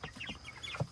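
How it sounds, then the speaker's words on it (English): Chickens in a chicken tractor let out a few soft, quiet clucks and murmurs, scattered short calls at close range with one slightly louder cluck near the end. "Chickens are silly animals."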